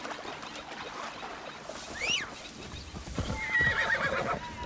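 A horse in the video game Assassin's Creed Shadows whinnies with a shrill, wavering call in the middle, then snorts and clops nearby, with a second high whinny toward the end.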